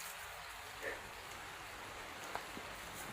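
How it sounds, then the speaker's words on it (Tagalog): Heavy rain pours steadily on a mountain, a dense, even hiss of downpour with a couple of faint, brief knocks partway through and no voices. "Sobrang lakas ng ulan yan."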